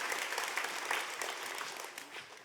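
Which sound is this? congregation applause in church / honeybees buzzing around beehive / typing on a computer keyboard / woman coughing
congregation applause in church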